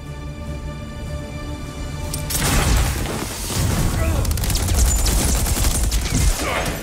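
Gunfire in the video game Batman: Arkham Origins erupts as a loud burst of rapid shots and booms after a quieter stretch of music, continuing as a dense fusillade to the end.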